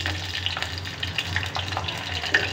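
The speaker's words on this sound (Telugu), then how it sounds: "జీలకర్ర అన్నీ కూడా వేసేసాను. వేగుతున్నాయి చూడండి." Green chillies, dried chillies and cumin seeds frying in hot oil, a continuous close sizzle with crackling pops and occasional stirring scrapes.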